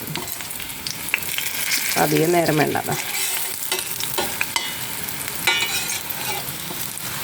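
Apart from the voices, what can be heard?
sweet potato cutlet shallow frying in oil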